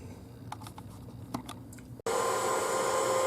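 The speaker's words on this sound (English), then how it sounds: "I'm cranking about 320 degrees worth of heat onto this thing with a heat gun" Heat gun switching on and blowing a steady, loud roar of hot air onto a wax-covered menorah, after a few quiet clicks and handling sounds.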